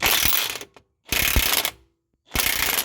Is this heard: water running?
no